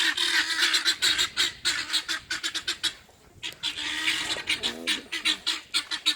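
A flock of guinea fowl calling noisily up close, harsh rapid cackling chatter in quick repeated bursts, pausing briefly before resuming just as loud.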